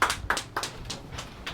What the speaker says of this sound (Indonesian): Kita sambut dengan tepuk tangan paling meriah,